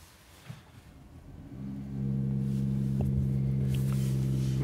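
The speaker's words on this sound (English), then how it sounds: "I'm going to start the car." A 2019 Mercedes-AMG E53 Coupé engine cranks and catches, settling into a steady low idle rumble heard from inside the cabin.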